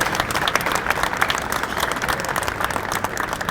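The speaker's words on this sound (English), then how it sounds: "Big round of applause for Jim Porter." An audience at an NRA event applauds a guest, a dense, continuous round of clapping from a sizable crowd, steady and moderately loud throughout.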